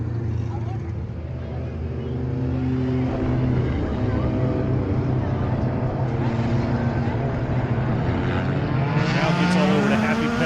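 Race cars launch from a clean start at Hattiesburg Speedway during the season opener, their engines a loud, continuous roar that swells and climbs in pitch as the field heads into turn one.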